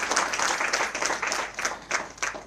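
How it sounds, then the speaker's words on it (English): Audience applause for a speaker at the opening of the US Consulate in Bengaluru, a close burst of many hands clapping that gradually thins toward the end, with no talk over it. "Please give him a round of applause and thank him for"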